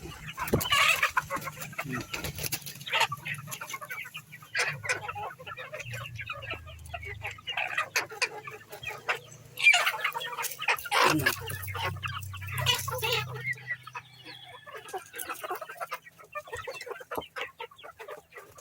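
Native Visayan chickens, including newly hatched chicks, cluck and chirp close by in a busy, overlapping farmyard chorus, with a low hum underneath now and then.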